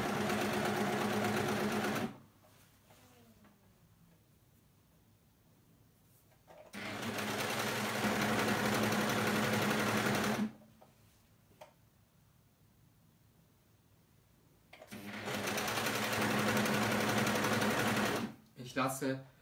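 An overlock serger sewing machine runs in three loud, sustained bursts of several seconds each, separated by quiet pauses, with someone speaking German during the stops.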